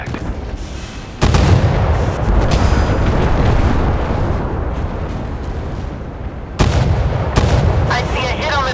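Heavy naval guns of the battleship USS California thunder in the game Force of Warships, two loud booming salvos with long rumbling tails, one at the start and another near the end.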